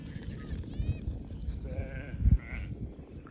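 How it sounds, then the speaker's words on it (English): Sheep bleat a few times at a distance over a breezy outdoor background, with scattered low thumps. "Okay, we're out here moving the sheep."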